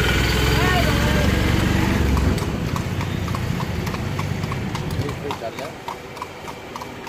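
Horse hooves clip-clop steadily as a horse-drawn carriage rolls along near Fatehpur Sikri, with engine and traffic rumble underneath and the hoofbeats fading slightly toward the end.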